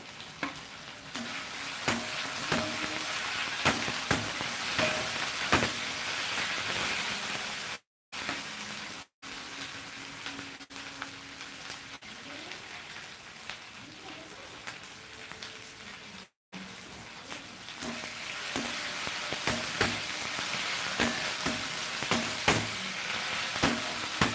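Ghugni, a curried pea dish, sizzles and fries in a pan, a steady close hiss with occasional stirring scrapes and a few brief dropouts, no voices.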